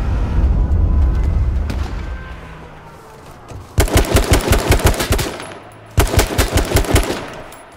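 Automatic gunfire in the battle royale game H1Z1: two loud, rapid bursts of sharp shots, each lasting about a second and a half, following a quieter stretch of rumbling ambience.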